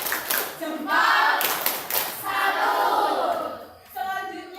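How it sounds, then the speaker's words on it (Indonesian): A classroom group does a rhythmic 'thumb clap' cheer: a few sharp claps, then chanted group voices in unison, with more clapping and cheering at the end. "kita berikan tepuk jempol"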